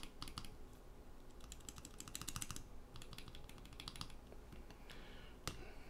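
Rapid bursts of typing on a mechanical keyboard fitted with lubed Novelkeys Cream switches, the close, crisp keystrokes clustered in quick runs with brief pauses between them.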